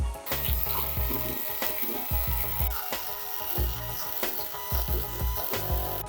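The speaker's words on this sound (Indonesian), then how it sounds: "Mixer dengan kecepatan tinggi hingga kaku dan kental berjejak." Mito MX200 electric hand mixer beating bolu tape batter at high speed, a steady close whirring drone with irregular scraping knocks as the beaters hit the bowl, running throughout with no talk.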